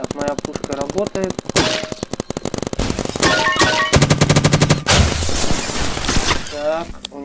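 Rapid gunfire from weapons and turrets in the online shooter game Big Paintball, dense bursts of repeated shots with impacts and shattering, loud and continuous throughout with game effects layered over it.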